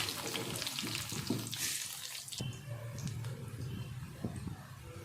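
Sliced onions and green chillies fry in hot oil in a pan for a village-style egg curry, giving a soft steady sizzle with light stirring scrapes, fairly quiet and close, with no voices.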